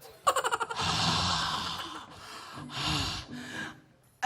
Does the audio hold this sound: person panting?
yes